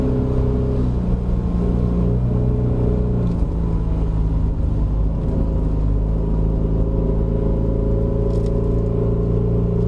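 A 1995 Mercedes-Benz W202 fan car climbs a wet hill course at Genting, its engine droning steadily and loudly from close inside the cabin, with a continuous low rumble and shifting tones as it changes gears.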